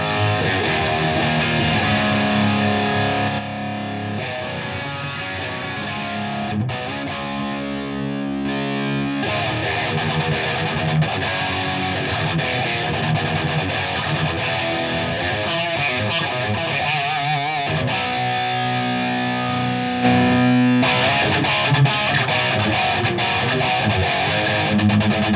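Distorted electric guitar playing through a Blackstar HT Stage 100 MKIII amplifier in 10-watt mode, with steady loud riffing and chords across the whole passage and no talking.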